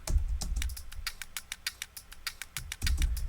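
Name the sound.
stapler sample pitched up, used as a drum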